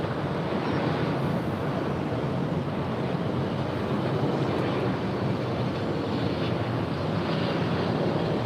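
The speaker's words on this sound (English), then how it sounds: "a lot of freighters landing here on the north side" Freighter aircraft landing on the north side at LAX, a steady broadband jet roar with heavy wind rumble that stays loud and unbroken throughout, without clear rises or fades.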